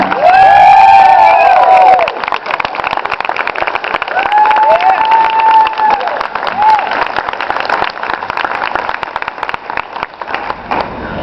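A cheering squad of community supporters at an alumni award ceremony bursts into loud, sustained applause and whooping cheers, dense and continuous throughout.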